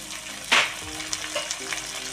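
Green chili, carrot and tomato pieces fry in an oiled pan for a puri curry. A steady sizzle carries on throughout, and one sharp burst of spattering comes as the pieces are stirred near the start.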